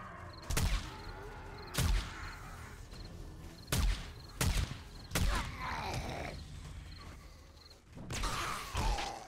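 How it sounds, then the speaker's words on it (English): Gunfire in the zombie survival game 7 Days to Die, roughly eight sharp shots fired singly at irregular intervals, loud against a quiet background with creaks and faint rumbles between. "So let's see if we can just gun this guy down."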